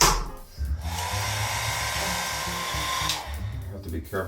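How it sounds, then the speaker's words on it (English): A hair dryer runs in a steady loud blowing whoosh while drying a wet dog, starting abruptly after a brief bump and cutting off again near the end, close by and with no talk. "Now let's put you under the dryer,"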